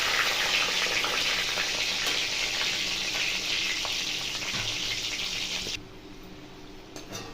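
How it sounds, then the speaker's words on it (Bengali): Potatoes fry in hot oil for a chicken dum biryani, giving a steady, loud hissing sizzle that cuts off abruptly near the end, leaving a quiet kitchen. "এর মধ্যে আমি আলু দিয়ে দিচ্ছি তেলের মধ্যে"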